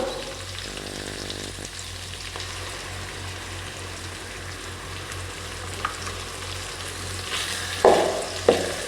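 Tomatoes go into oil with softened onions for kara kulambu, frying with a steady close sizzle and stirring scrapes, a short rapid rattle early on, and louder clanks of spoon on pan near the end, with no talk.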